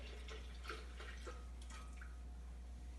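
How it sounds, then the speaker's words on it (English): Milk trickles and drips into a blender jug in a few soft, uneven splashes, quiet and close, with no talking. "Then you put the milk inside."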